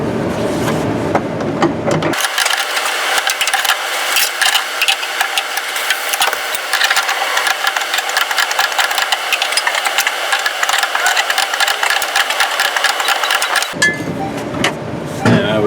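A manual hole punch is turned with a wrench to cut a clean hole, giving a loud, steady grinding and clicking that runs for about eleven seconds. Shorter, different noises come before and after.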